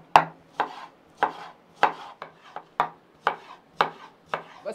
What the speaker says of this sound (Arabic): والليمون بتقطعوه قطع صغيرة